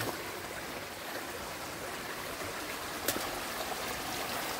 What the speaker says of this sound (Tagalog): munting sapa siya guys